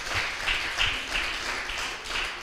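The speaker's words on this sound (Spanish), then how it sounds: "Dale un fuerte aplauso, Rey, aleluya." Church congregation applauding, a soft, steady patter of many hands clapping in an even rhythm, fairly distant and alone.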